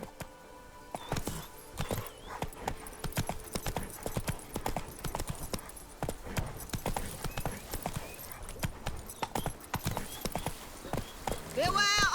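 Roach, a horse in The Witcher 3: Wild Hunt, clip-clops along at a steady walking gait, hooves loud and close, with a voice speaking over the hoofbeats.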